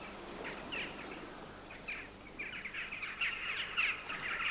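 Crows calling on sea cliffs in North Devon, several harsh caws repeating at a distance and fairly faint over a soft background wash, with no voices.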